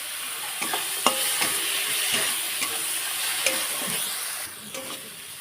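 Spices with turmeric and chili powder sauté in oil for a snakehead fish curry, sizzling loudly and continuously while a spatula scrapes and taps the pan at irregular intervals, close up and without voices.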